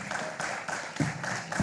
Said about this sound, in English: Can she have a round of applause, please?